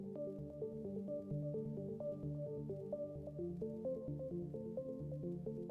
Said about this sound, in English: And then we add the echo.